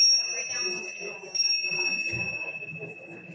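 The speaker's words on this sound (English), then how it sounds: "I'm going to ring these little yoga chimes, these little tingshaws." Small tingsha yoga chimes ring out bright and sustained, struck at the start and again after about a second, their long shimmering tones lingering beneath a person speaking.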